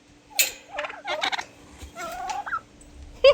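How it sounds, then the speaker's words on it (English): A wild turkey on a farm gobbles in several rapid, rattling bursts at close range, with short pauses between calls and a faint steady hum underneath. "one of the wild turkeys blew in"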